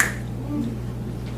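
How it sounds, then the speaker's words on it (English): A hypnotist snaps his fingers to bring a subject out of trance, one sharp close snap at the start followed by a quieter one, over a low room hum. "I'm going to snap my fingers twice and you'll be completely out of trance"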